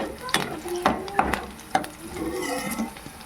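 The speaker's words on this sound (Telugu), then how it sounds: "ఆనియన్స్ వేగాయి, ఆనియన్స్ పచ్చిమిర్చి కూడా వేగాయి." Onions and green chillies frying in a pan for chicken fry, a soft sizzle under repeated scraping stirs of a spatula against the pan, close and fairly quiet, with no talking.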